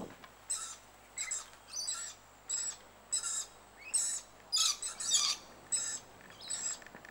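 Scaly-breasted lorikeets in a bird sanctuary on a sunny day give repeated short, shrill screeching calls in a regular sequence, moderately close over quiet background.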